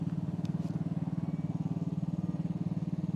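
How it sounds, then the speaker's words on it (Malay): Aveta Ranger 110 motorcycle engine idling close by, a steady low putter with an even pulsing rhythm and no speech. "Saya ambil motosikal Ranger 110 Avatar."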